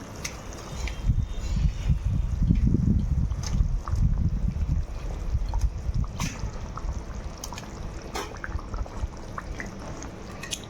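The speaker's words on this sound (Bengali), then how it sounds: "জলটাকে ফুটিয়ে মাছগুলো দিয়েছে, মাছগুলো দিয়ে দেবো।" Rohu fish pieces simmer in a pot of boiling water, with soft bubbling and gurgling that swells early and then settles into a quieter, steady burble; no one speaks.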